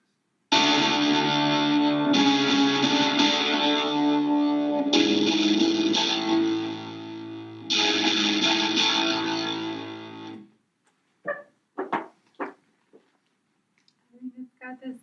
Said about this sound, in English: I think it's got this like more boomy, meaty, echoey sound to it when it's processed